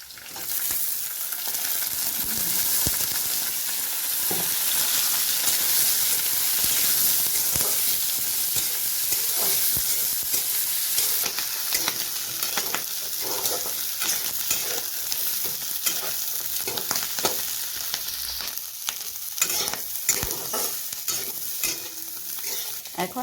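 Snails (ghugoli) sizzling in a pan with browned onions, stirred repeatedly with a spoon, a continuous loud fry with rhythmic scraping and clatter throughout.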